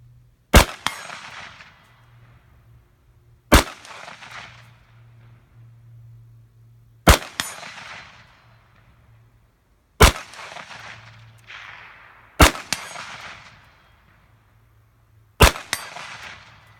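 A custom-built AR-15 rifle fires six sharp, loud single shots spaced a few seconds apart outdoors, each crack followed by a brief decaying echo, with no talking between them.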